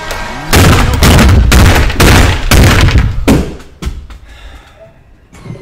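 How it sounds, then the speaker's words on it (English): SMG fire during a Fortnite box fight, loud bursts of rapid shots in several close, punchy volleys that fade out into quieter game sounds. "This shit really just killed me, full killed me with an SMG, bro."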